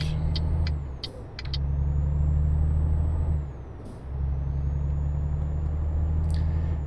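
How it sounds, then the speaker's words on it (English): Heavy truck engine in Euro Truck Simulator 2 revving loudly in long sustained surges, with brief dips between them and air-brake hisses and clicks over the top. "Revving up the engine, listen to it howling, moan."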